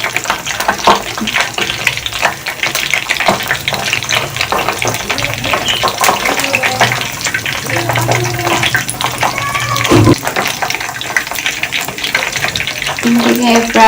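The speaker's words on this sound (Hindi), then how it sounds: "ये फ्राई हो रहे हैं" Chicken samosas frying in oil over low heat, a dense continuous bubbling sizzle, loud and near, with scattered clatters and a voice now and then.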